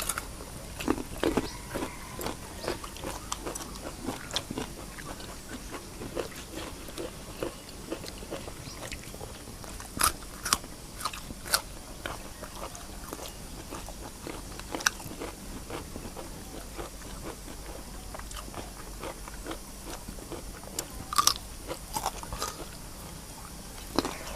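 Crisp crunching of raw vegetables and galangal flowers eaten alongside raw and cooked larb, close and steady bites and chewing repeating throughout with occasional sharper crunches, almost no talk.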